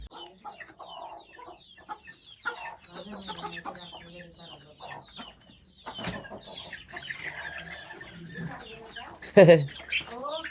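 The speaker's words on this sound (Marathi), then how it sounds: "किती आहेत कोंबडी, बरीच आहेत वाटतं." A flock of village chickens clucks and chatters continuously, with a sharper louder call near the end; faint talk is present in the background.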